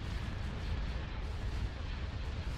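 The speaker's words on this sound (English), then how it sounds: "All batteries commence firing." Star Destroyer batteries firing in a Star Wars space strategy game, a dense, continuous roar of heavy cannon fire that stays loud and even for the whole stretch.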